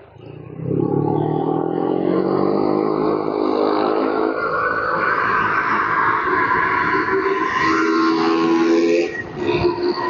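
A motorcycle passes close by in city road traffic at C3 Araneta. Its engine drones loudly and climbs in pitch for several seconds, then fades as it moves off. No one speaks over it.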